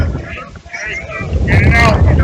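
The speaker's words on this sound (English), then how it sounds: "As you can see how hard that wind is blowing in" Strong wind buffets the microphone outdoors at a 16-inch softball championship game, a low rumbling roar that swells louder toward the end, while a commentator talks over it.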